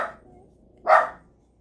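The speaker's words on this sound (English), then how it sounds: "Oh, my puppy's noisy." A puppy gives two short, sharp barks about a second apart, fairly close and alone in a quiet indoor room.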